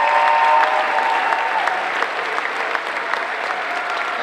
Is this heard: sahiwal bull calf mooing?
no